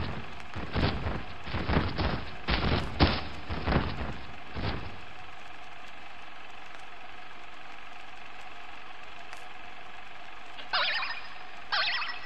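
Toy cannons fire in the video game Kingdom Hearts 2.5: a rapid string of sharp, punchy blasts over several seconds, then a low steady background hum, with two more bright bursts near the end.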